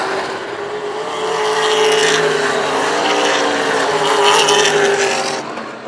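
Race cars roar around Hythe Motor Speedway during a main event, a loud sustained engine drone that swells and holds as several cars battle closely past, with no voices over it.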